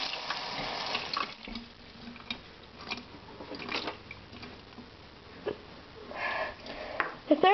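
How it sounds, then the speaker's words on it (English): Water runs and splashes in short bursts while a pet's ear is rinsed out, close and soft, with sniffing and squishy wet handling noises between the flows. "Next thing that you do is you wash out their ear with water."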